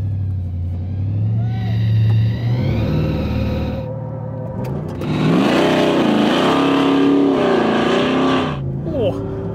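An 1800hp muscle car drag races a 650hp Hyundai EV. Loud engine roar rises through revving, gear-change pitch sweeps, with a broad rumbling surge continuing throughout.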